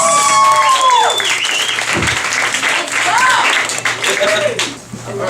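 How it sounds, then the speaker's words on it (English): A late-night show studio audience applauds steadily with scattered cheers and whoops, the clapping dense and continuous before tapering off near the end. "please give a big round of applause right now for Glenn Bolton."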